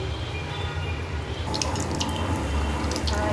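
Rawa snacks fry in hot oil with a continuous close crackling sizzle that brightens partway through, dense and even throughout, with no talking.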